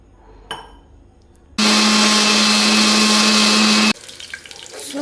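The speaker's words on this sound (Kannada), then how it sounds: "ಇದನ್ನು ಹಾಕ್ಕೊಂಡು ಸ್ವಲ್ಪ ನೀರು ಹಾಕ್ಕೊಂಡು ರುಬ್ಕೊಳೋದು" A kitchen mixer grinder blends sambar powder with a little water, a loud steady whir that starts abruptly, runs for a couple of seconds and cuts off, with quiet kitchen noise before and after.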